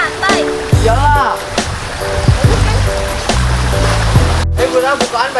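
Ocean waves wash at Pantai Lembur beach in a steady, loud rush of surf, while people talk and shout over it and music plays in the background.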